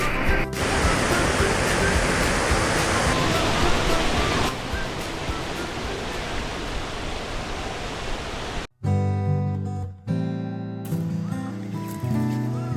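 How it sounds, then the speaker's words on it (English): The Hahn River in the Kimberley, clear fresh water flowing steadily past a riverside camp, a loud broad rushing wash that runs unbroken before cutting out abruptly near the end into other sounds. "This is the Hahn River."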